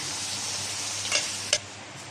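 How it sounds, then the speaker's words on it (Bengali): Spices sizzling and being stirred in a pan while cooking khichuri with beef, a steady soft frying hiss with two brief scraping stirs, close and alone. "এখন আমি এটা কষিয়ে নেব তারপর মাংসটা দিয়ে দেব"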